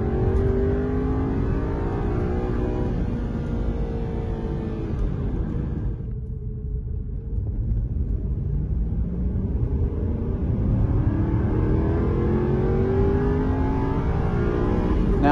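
A powerful V8 engine on a dyno roars steadily, dipping briefly in pitch before climbing again as it revs back up, loud and close throughout.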